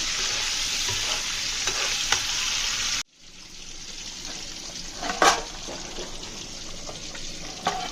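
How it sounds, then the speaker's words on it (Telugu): Eggs fry in a pan in a home kitchen, a steady bright sizzle that cuts off sharply partway through, then resumes softer with a few clinks and scrapes of stirring. "సో నేను ఎగ్ ఫ్రై చేసుకుంటున్నాను"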